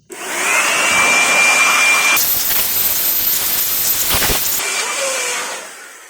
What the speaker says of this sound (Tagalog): siyempre pasadahan natin uli ng blower para yung mga natatanggal ay